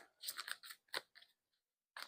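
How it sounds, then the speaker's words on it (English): Tarot cards being shuffled during a reading, soft close-up bursts of riffling and flicking in short irregular clusters separated by brief silences. "shuffle for a little bit more"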